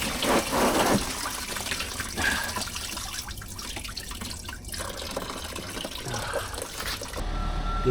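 Coolant drains from the disconnected lower radiator hose of a Citroen Xsara Picasso 2.0 HDI, trickling and splashing close by in an uneven stream before it suddenly thins out near the end.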